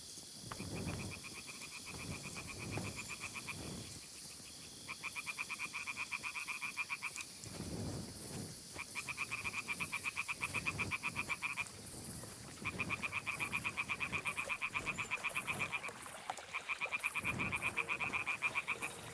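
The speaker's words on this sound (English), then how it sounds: "There's a frog hiding in my armor from the sounds of it." Frogs croak in repeated rhythmic bursts in the Kingdom Come Deliverance 2 video game, a steady chorus running throughout over a faint ambient game background with crickets or insects.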